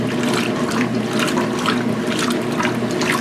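A washing machine filling with cold water and swishing towels, a steady rushing and sloshing of water with a low motor hum, close and fairly loud, no talk.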